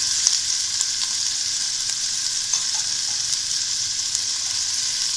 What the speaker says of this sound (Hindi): इन सबको अच्छी तरह से हमें सौटे कर लेना है